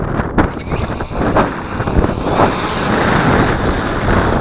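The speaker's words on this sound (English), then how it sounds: "right now we got this wind here" Wind gusts roar around a hovering Cheerson CX-20 quadcopter outdoors, a loud steady rushing wash over a faint motor whine, with a brief click at the start.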